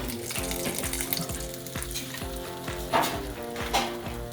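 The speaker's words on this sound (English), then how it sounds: "we're going to deep fry this now." Bluefish pieces with cockles deep frying in hot oil, a continuous bubbling sizzle with scattered pops and soft clatter of utensils in the pan, close and clear without speech.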